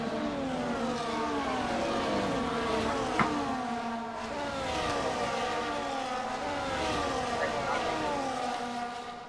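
Sim race cars restarting after a safety car period in a racing game at Japan, several engines revving and accelerating in overlapping rising whines, continuous and fairly loud.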